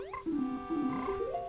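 Game frog croaking in The Legend of Zelda: Majora's Mask 3D, heard after recruiting a frog at the laundry pool; a run of bright, tonal croaks with rising and falling pitch, close and clear, with no talking.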